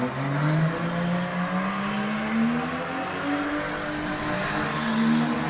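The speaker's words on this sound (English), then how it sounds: "the RPMs that number 12 is pulling is intense" The number 12 demolition derby car, running full exhaust with a dangling muffler, revs hard at high RPMs on the track in Clearwater, Minnesota. Its engine pitch climbs and falls in long sweeps under a constant, loud roar.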